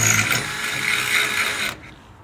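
A power drill bores a hole through a newly fitted barrier boom, a loud, steady, close mechanical whir and grind that stops abruptly near the end.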